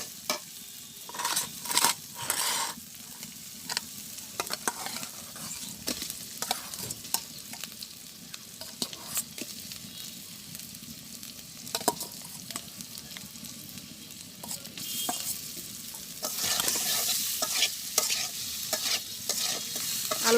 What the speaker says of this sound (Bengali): আলুটা দিয়ে একটু কষাইয়া তারপরে জল দিয়ে দেবো।